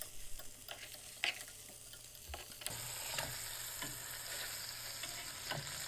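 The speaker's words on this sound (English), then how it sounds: "I'm gonna make sure these ribs are getting brown on all sides." Beef short ribs browning in a pot, giving a steady moderate sizzle with scattered clinks and stirring taps as the pieces are turned, alone without talk.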